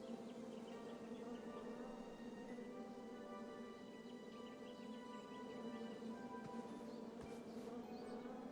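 Bees in King's Quest (2015) hum in a faint, continuous drone, a steady buzzing tone with little change and a couple of soft knocks near the end.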